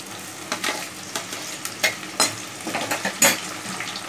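Onions sizzle steadily in a hot pan for fish gravy, with scattered scraping and stirring clatters, close and continuous, no voices.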